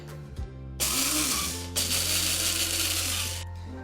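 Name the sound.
rice rattling in a coffee grinder to clean out powder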